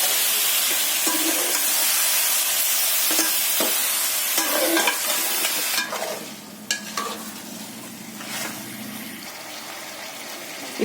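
Chicken stirred and frying in a pot for biryani gives a loud, steady sizzle with spoon scrapes and clanks against the pot. Halfway through the sizzle drops to a softer, wetter bubbling with occasional stirring knocks, close up and with no talking.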